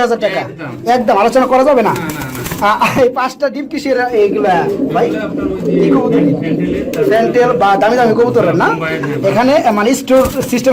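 Pigeons at a pigeon farm cooing in repeated throaty, rising-and-falling calls that overlap continuously at close range, with someone talking over them.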